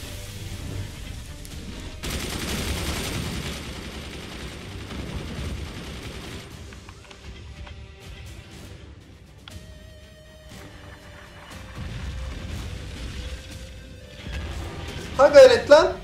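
Weapons in the Forts game fire and strike enemy forts, with muffled booms and impacts under frequent excited talk and a sharp cluster of hits near the end.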